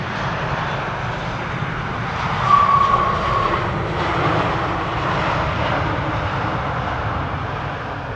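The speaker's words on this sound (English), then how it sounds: "Idle reverse landing, sadly, not getting very loud." An Emirates Airbus A380 airliner lands with only idle reverse thrust, giving a steady, moderate broadband roar that stays fairly even throughout without building to a loud peak.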